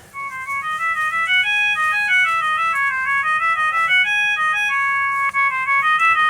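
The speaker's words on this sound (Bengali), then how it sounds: "ফোনটির যে রিংটোনের সাউন্ড একটু চেক করবো" A Moonstar M21 feature phone plays a loud electronic ringtone, a bright looping melody of quick stepped beeping notes that runs steadily throughout, heard alone.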